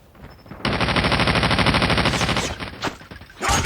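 Rapid automatic gunfire from the mobile shooter game Call of Duty Mobile rattles out in a loud sustained burst, followed by a few scattered shots and a renewed volley at the end, with no voices.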